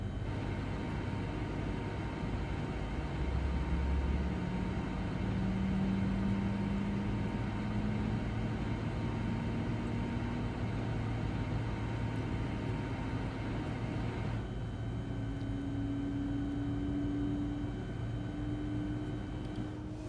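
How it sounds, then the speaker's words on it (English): Embraer E-190 engine number 2 spooling up in the X-Plane flight simulator, a steady turbine drone with a slowly rising whine that climbs in pitch and steps up partway through, loud and continuous with no talk. "Let's start engine number 2."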